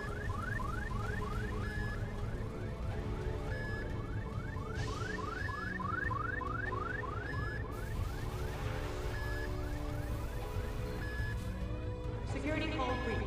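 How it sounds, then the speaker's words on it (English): An alarm in the video game The Beginner's Guide repeats as a rapid run of rising electronic sweeps over a steady droning hum, looping for several seconds and fairly quiet, with someone talking over it. "I recognise that alarm."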